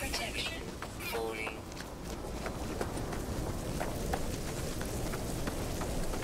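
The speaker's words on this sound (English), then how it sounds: "Alright, so now we're out of the storm." Steady storm rain in No Man's Sky pattering constantly at moderate volume, with faint scattered thumps mixed into the downpour.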